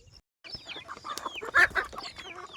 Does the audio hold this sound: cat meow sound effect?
no